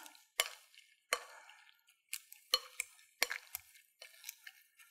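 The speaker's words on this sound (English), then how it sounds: "So let's give this just a little bit more mash." Strawberries being mashed for freezer jam: a series of sharp, wet squishing presses with clinks of the masher against the bowl, coming in irregular bursts, close and fairly quiet, with no talking.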